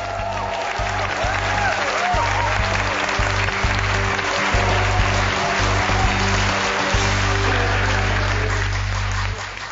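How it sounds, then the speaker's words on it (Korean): A large international audience breaks into sustained applause and cheering after a short Arirang folk song, steady dense clapping lasting throughout with no talk. "감사와 축하의 의미로 부른 짧은 아리랑 가락에 세계인의 박수와 갈채가 쏟아졌습니다."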